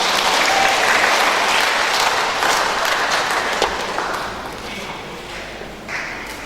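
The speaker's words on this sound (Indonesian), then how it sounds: "sambil kita memberikan tepuk tangan yang meriah" Enthusiastic audience applause at a Christian family gathering, loud dense clapping that gradually tapers off over several seconds.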